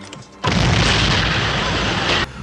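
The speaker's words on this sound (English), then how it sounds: "Harry causes a distraction by setting off an explosion in the villa" A film explosion at a Russian villa erupts suddenly as a loud, dense roaring blast, sustaining for nearly two seconds before cutting off abruptly.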